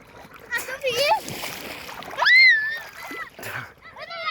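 Bathers splash in river water, with irregular nearby sloshes and splatters mixed with children's voices and excited talking throughout.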